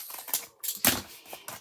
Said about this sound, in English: I'm going to take my scissors that kind of look like a stamp, and I'm going to cut across.